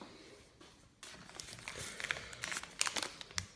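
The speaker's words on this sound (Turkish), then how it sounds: "Şimdi tarçın, çörek otu ve zencefili poşetinden kesip çıkartacağız." Plastic spice packets of cinnamon, black seed and ginger being cut open, giving a run of close crinkling and crackling rustles that grow busier after the first second, with several sharp snips and no talking.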